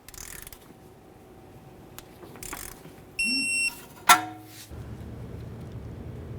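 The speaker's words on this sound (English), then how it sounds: "Torque this nut to 46 foot-pounds." A torque wrench tightens the top nut on a new upper control arm of a 2003-2011 Mercury Grand Marquis to 46 foot-pounds: a short steady beep, then a single sharp click, close and fairly loud over a quiet room.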